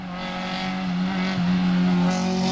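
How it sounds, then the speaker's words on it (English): An Acura Integra project car on new tires and rims accelerates hard around a corner, its engine droning loudly and steadily under load with a slight rise in pitch. "This is a video of me gunning it around a corner."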